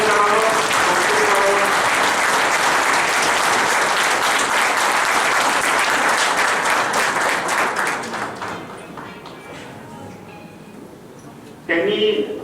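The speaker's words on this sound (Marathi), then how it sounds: "मी सर्वांना एकदा जोरदार टाळ्या वाजवून त्यांचं अभिनंदन करावं" Loud, sustained applause from an audience at a Rotary Club of Pandharpur felicitation and closing event, steady dense clapping that fades after about eight seconds before a brief final burst.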